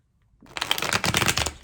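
A deck of cards is shuffled up close in one quick, crisp riffle lasting about a second, with rapid papery flutters and no talking.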